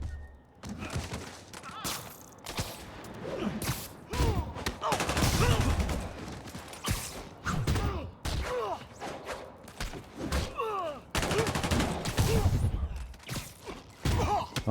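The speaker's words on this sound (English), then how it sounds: "Think I didn't know you were shooting at me from up here." Gunfire is aimed at Spider-Man in the game Marvel's Spider-Man: bursts of rapid shots and thuds come in irregular clusters, with whooshes between them and occasional voices mixed in.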